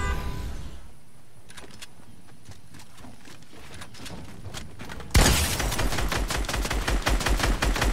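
Rapid gunfire in a Fortnite match: a quieter stretch of scattered shots gives way to a sudden loud burst of dense, sustained automatic fire over the final seconds.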